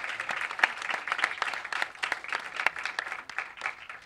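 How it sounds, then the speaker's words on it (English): A crowd applauds at a stage launch event for a Braille book edition, a lively patter of many hands clapping close by, steady for four seconds without talk. "Let's give a big round of applause,"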